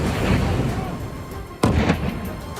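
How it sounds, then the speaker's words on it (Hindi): Bomb blasts from an Israeli drone strike, a sharp explosion cutting through a rumbling background, followed by a second lesser burst, heard from a distance. "दूसरा बम गिरा और धमाका हुआ और फिर एक और बम गिरा।"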